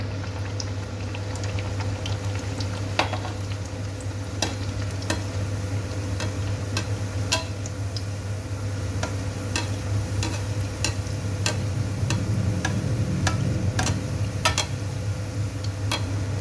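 Hot oil heats in a pan for frying aloo puri, a steady close bubbling sizzle dotted with small sharp pops throughout, with an underlying low hum.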